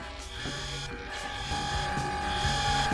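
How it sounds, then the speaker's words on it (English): Electrical buzzing as the power trips in a Stranger Things episode, a steady hum with a high sustained tone and intermittent rising buzzy pulses, moderately loud with no talking. "Whoa, the electricity's tripping."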